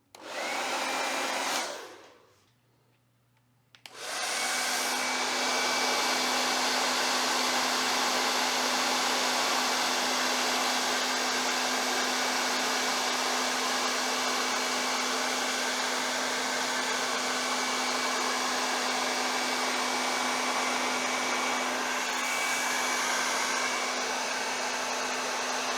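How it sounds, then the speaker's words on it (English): A hairdryer blows with a steady, even whir after a brief cutoff near the start, running continuously, close and fairly loud. "let's see if the hairdryer can speed things up."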